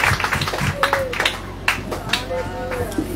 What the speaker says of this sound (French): Frappez-nous, applaudissez mon Dieu matin